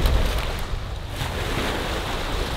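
Choppy lake water slaps and rushes around a small kayak, a steady broadband wash with heavy wind buffeting the microphone throughout, no voices.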